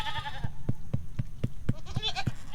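Goats bleat close by in a quick series of short, strained calls, with faint rhythmic thumps underneath.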